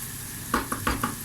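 Onions and garlic dropped into a pot of sautéing meat, cooked saç kavurma-style, give several short bursts of sizzling and stirring against a quiet kitchen background.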